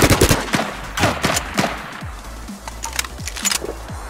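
Another player's gun firing in H1Z1, a loud rapid string of sharp shots in quick bursts up front, then sparser, fainter cracks trailing off.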